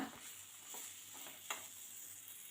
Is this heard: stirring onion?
yes